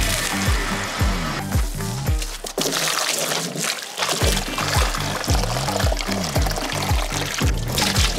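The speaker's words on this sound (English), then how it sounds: "Turn the hose on. And wash the concrete off." A garden hose in a backyard sprays water to rinse concrete off a toy cement mixer drum, a continuous loud splashing and pouring with rhythmic sloshing pulses throughout, briefly lighter halfway through.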